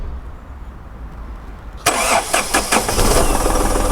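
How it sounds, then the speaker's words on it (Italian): A car engine cranks and catches, then revs up to 2500 rpm in a few loud bursts before settling into a steady, rising roar close by, during a battery and alternator charging test. "accendiamo il motore e portiamo a 2500 giri"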